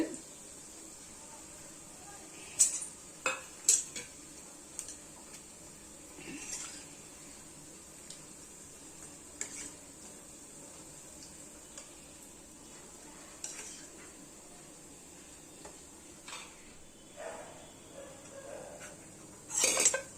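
Bread pieces frying in oil until brown for bread halwa give a faint, steady sizzling hiss, broken now and then by soft clinks and scrapes of a utensil against the pan.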